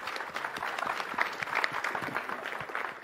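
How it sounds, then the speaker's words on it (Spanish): Audience applause after a speaker at an ethics and technology debate, dense continuous clapping from a moderately sized crowd, fairly close and steady for the whole few seconds. "Un aplauso para Marian."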